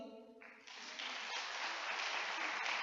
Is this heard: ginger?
no